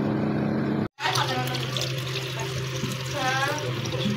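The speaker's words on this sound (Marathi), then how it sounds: "ते आपण स्वच्छ आता धुवून घेऊया।" Tap water runs steadily while fresh surmai (kingfish) is rinsed in a home kitchen, a continuous splashing wash after a brief silent break, with some voice in the background.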